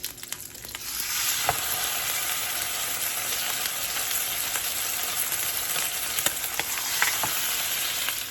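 Garlic pieces sizzle steadily in hot oil in a pan, a bright continuous crackle that starts after a brief quieter moment and runs evenly at close range with a few sharper pops.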